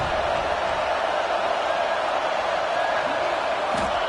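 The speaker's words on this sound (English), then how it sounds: "Listen to this crowd just shaking the girders of this place" A stadium crowd at a college football game between USC and Notre Dame roars in a loud, steady wall of cheering that holds without a break.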